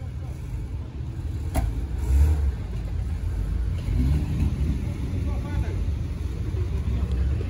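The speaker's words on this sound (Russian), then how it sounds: "Так, Нивка ползет потихонечку." A Lada Niva off-road car crawls slowly through a forest, its low engine droning steadily and fairly close, with a brief rise in revs, under a voice talking.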